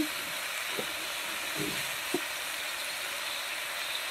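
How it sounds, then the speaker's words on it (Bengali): Ginger and kohlrabi fry in a pan, giving a steady broadband sizzle with a few soft stirring knocks, close and moderately quiet, no voices. "আদাটাকেও ভালোভাবে ওলকপির সঙ্গে আমি ভেজে নেব মিনিট খানেকের মতো"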